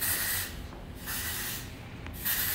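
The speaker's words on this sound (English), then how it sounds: "So I'm spraying Way Texturizing Hairspray." Way Texturizing Hairspray misted onto hair extensions for a party ponytail, heard as a few close, hissing aerosol bursts separated by short pauses.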